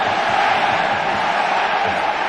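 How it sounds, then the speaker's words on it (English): A stadium crowd of Wigan rugby league supporters roars in a sustained, dense wash of cheering and shouting, loud and continuous throughout. "Wigan crowd behind them now"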